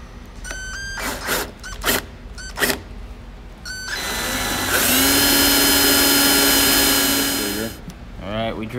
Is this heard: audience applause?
no